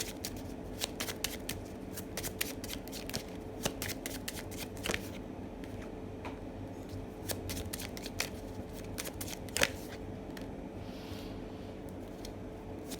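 Tarot cards are shuffled and drawn by hand, a close run of quick riffling flicks and soft clicks in a quiet room.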